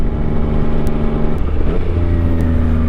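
A 2024 Yamaha XSR 900 motorcycle engine drones loud and close while being ridden, a steady harmonic hum that shifts pitch midway as the revs change, with wind rumble underneath and no talk.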